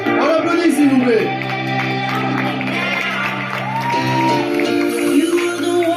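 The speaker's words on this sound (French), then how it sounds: "On applaudit s'il vous plaît." An audience at a regional PCA bodybuilding and bikini show in Nantes claps and cheers with whoops and shouts, loud and dense throughout, mixed with crowd voices and tonal sounds from the hall.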